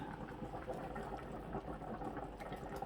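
Beef trotters (paya) simmering in a pot over a fire produce a steady, soft bubbling and gurgling, close and continuous, with no voices.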